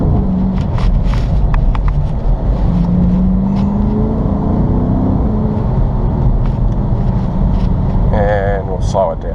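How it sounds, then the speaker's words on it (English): A Chrysler 300 SRT engine drones and climbs in pitch in second gear, heard from inside the car, with a person talking over the steady road noise. "I'm only in second gear here."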